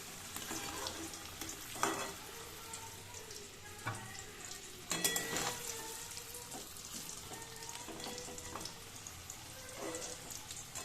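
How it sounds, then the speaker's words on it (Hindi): Potatoes frying in a pan give a steady soft crackle and sizzle, with occasional louder spatters and stirring knocks, close and continuous. "ये ना आलू ऑलमोस्ट फ्राई हो चुका है"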